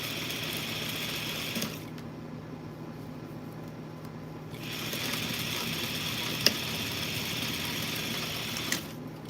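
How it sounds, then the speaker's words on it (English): Sewing machine stitching the side seams of a garment lining, running in two quiet bursts of steady mechanical whir separated by a pause, with faint clicks in between. "we're going to sew this lining back together on the side seams"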